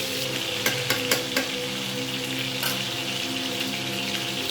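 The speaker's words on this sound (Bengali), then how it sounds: "ভাজলে গন্ধটা পাওয়া যায় হালকা মতো ভাজবো বেশি ভাজার দরকার নেই" Chicken pieces fry lightly with spices and vinegar in a pan for a home-cooked Bengali chicken curry, giving a steady close sizzle broken by a few sharp clicks from stirring.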